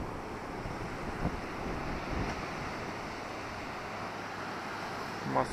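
Sea waves washing onto Massandra beach in Yalta, Crimea, in spring, a constant soft surf roar mixed with wind buffeting the microphone, no voices.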